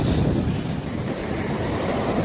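Surf washing onto Palavakkam beach in Chennai: a steady, broad wash of breaking waves mixed with heavy wind buffeting the microphone, continuous and fairly loud with no voices.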